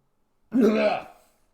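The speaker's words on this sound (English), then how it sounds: "Cough there." A single short cough, close and fairly loud, against silence.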